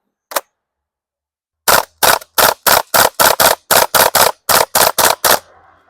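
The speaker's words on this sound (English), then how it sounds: "Second round on burst fire." An HK UMP45 airsoft gas blowback rifle fires on burst: one lone crack, a pause, then a fast run of loud, sharp, evenly spaced snapping shots, close up and with nothing else heard.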